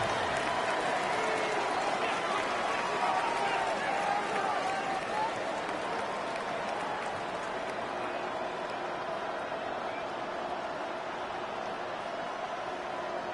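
A stadium crowd in a video game football broadcast roars steadily, a loud continuous wash of cheering and applause-like noise throughout, with a faint voice buried in it.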